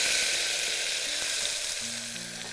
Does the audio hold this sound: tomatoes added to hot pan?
yes